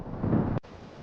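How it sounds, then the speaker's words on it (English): Thunder in a midnight storm, a short deep boom that cuts off abruptly, then a softer rumbling wash of wind and rain noise. "Oh no! The thunder is booming so loud!"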